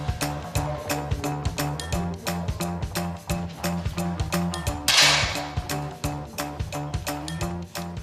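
A shot from a target rifle at a deaf sports festival shooting competition rings out once, near and sharp, amid a steady rhythmic percussive backdrop of repeated thumps.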